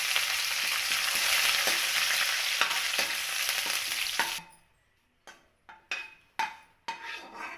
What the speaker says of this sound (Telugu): కరివేపాకు కూడా ఇలా ఫ్రై అయిపోయింది